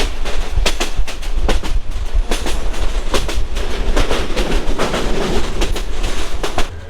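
The Jayantika Express rolls through dense hilly forest, wheels beating a rapid clickety-clack over rail joints, loud and close with a constant rumble underneath.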